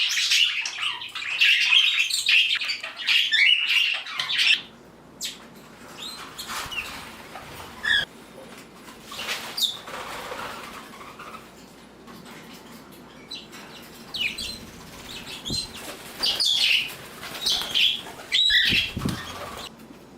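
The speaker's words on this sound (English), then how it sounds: "I'm gonna let my other birds out, and I'm sure everybody will get along." Pet budgies let out of their cage to meet a new budgie, chirping and squawking loudly up close with bursts of fluttering, flapping wings throughout, no talking.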